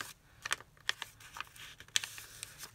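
Paper being folded and creased by hand while reinforcing a spine and base papers, heard as close, crisp crinkles and sharp snaps in irregular bursts, with no speech.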